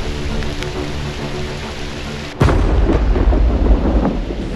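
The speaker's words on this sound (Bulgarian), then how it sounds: "Почна да гърми зверски хора и стана притеснително." Thunder cracks and rolls during a storm on a Danube river island, a sudden loud clap breaking in halfway through and rumbling on heavily over a low continuous background with no speech.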